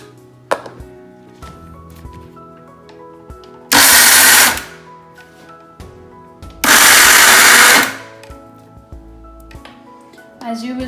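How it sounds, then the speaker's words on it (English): A mixie grinder chops nuts and dates in two loud, short bursts of a few seconds each, separated by quieter moments with faint kitchen clatter. "Just need to grind it in short bursts."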